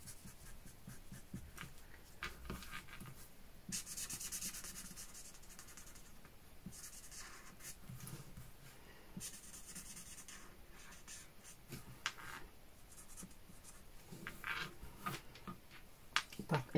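A pen draws short repeated strokes on a paper calendar page, quiet close scratching in bursts with brief pauses between lines and no talking.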